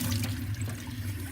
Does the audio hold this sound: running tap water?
yes